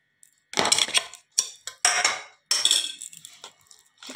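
Chicken pieces are mixed by hand in a bowl, bursts of wet clinking and scraping against the bowl coming in quick irregular clusters separated by short silences.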